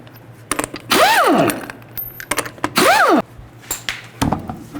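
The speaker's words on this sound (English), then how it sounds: "take the lug nuts off." Impact wrench or power tool spinning wheel lug nuts off a 2006-10 Mercury Mountaineer with a 19mm socket, two rising-and-falling whirring bursts close by, separated by metallic clicks and clatter.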